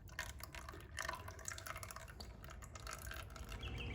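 Oil drains from a John Deere L111 lawn tractor transmission, a faint, continuous trickle with soft irregular drips close by and no voices.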